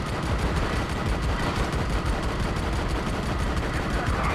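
Dense, continuous automatic gunfire from a mounted turret gun in the Army of Two video game, a steady unbroken rattle of rapid shots filling the whole stretch with no pauses.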